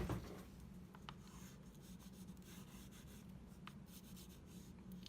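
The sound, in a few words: crayon drawing on tracer paper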